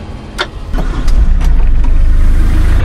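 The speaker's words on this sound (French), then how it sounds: "je vais juste faire chauffer le télescopique" A telehandler's diesel engine warms up on a cold morning in a farm field, a steady low rumble that grows louder and holds, with a few sharp clanks and knocks over the top.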